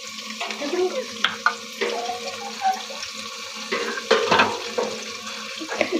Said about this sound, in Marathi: पहिला हाय फ्लेमवरती कांदा भाजून घेऊ.